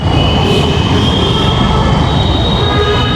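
A metro train passes overhead above a market: a loud, continuous rumble of rail traffic with steady high wheel squeal, close and unbroken throughout, with no talk.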